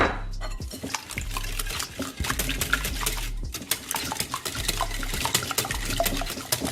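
A whisk or spoon works chocolate crepe batter in a bowl, with steady, close, wet stirring and scraping that carries on throughout, loud and unaccompanied by speech.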